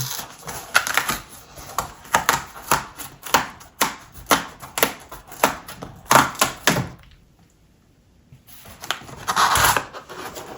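A new 14-inch 2023 MacBook Pro M2 Max is unboxed, with a run of sharp close tears and thunks of packaging in an irregular rhythm, then a short pause before another burst of rustling.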